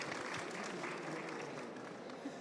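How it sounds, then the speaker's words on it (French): Steady audience applause fills a conference hall during a talk on shared and inclusive housing for ageing well, a dense, even wash of many hands clapping at moderate distance without a break. "Je vous demande de les applaudir, peut-être dans un premier temps."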